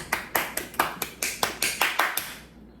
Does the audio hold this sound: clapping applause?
yes